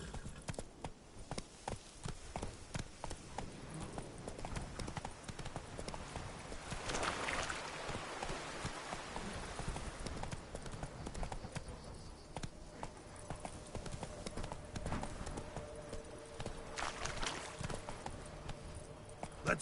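A horse named Roach clip-clops at a steady walking pace while being ridden in The Witcher 3: Wild Hunt on PS4, with continuous hoofbeats under ambient game sound.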